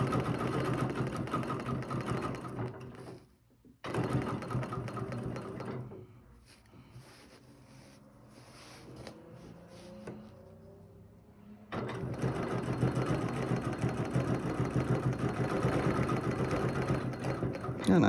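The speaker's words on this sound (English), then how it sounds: "you can start by stitching all the way around" A sewing machine stitches a design in fast, steady whirring runs that are loud and close, with a brief stop near the start and a quieter, slower stretch in the middle before full-speed stitching resumes.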